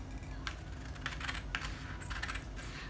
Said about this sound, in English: I'm going to take my scissors and I'm going to slash open the